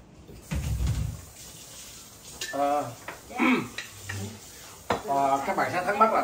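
Sauce being stir-fried in a pot while cooking a special fish cake dish, with scraping, stirring clatter and a low sizzle, near and moderately loud, broken by a few metallic clinks of utensils against the pot.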